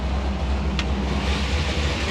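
A 440 race engine idles steadily on a hot day with a deep, even rumble and no revving, close up, with one faint brief click partway through and no talk.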